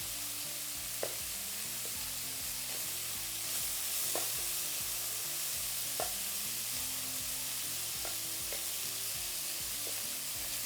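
Meat fries in a pan with a constant, moderate sizzle, broken by a few sharp clicks and taps from a utensil at irregular moments; the frying carries on alone without speech.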